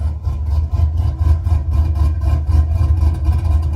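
A 4.8-litre V8 truck idling through an aggressive exhaust with a lumpy camshaft chop, a deep, loping rumble pulsing in a steady uneven rhythm, close and loud with no talking.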